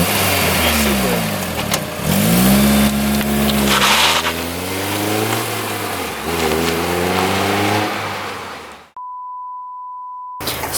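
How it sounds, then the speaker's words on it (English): Honda S2000 engine from a 2005 car being rebuilt after a wreck, revving loudly with rising and falling harmonic sweeps over several seconds, followed by an abrupt steady electronic beep tone at the end. "You shouldn't have revved it."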